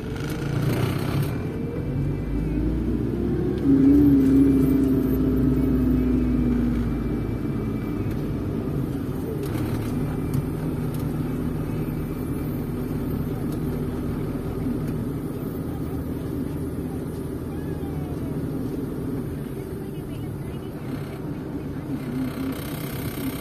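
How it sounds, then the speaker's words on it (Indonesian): Steady low rumble of idling and creeping cars in a traffic jam on a busy Malaysian road near clustered traffic lights, heard from inside a Proton Persona taxi, continuous and moderately loud, with a person talking in the cab. "Kanan kiri macet ya teman-teman ya, kanan kiri macet ini."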